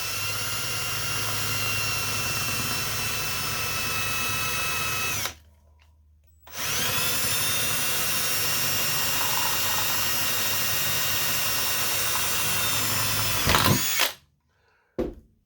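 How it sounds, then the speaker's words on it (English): A power drill whines steadily as it bores through a metal pipe and end cap, stopping briefly partway, then running again before cutting off near the end. "I'll drill a hole through the end cap and the pipe."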